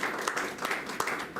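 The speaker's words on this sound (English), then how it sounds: "Can you give another round of applause for all our speakers?" A seminar audience at a weather radar meteorology talk at NCU applauds, producing a steady, moderately quiet wash of clapping with a few sharper claps standing out throughout.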